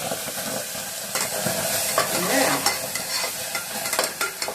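Tomato juice stirred and sautéing in a pressure cooker while making Nellore tomato rice, a continuous crackling sizzle with scraping spoon strokes rising and falling through the stir, no talking.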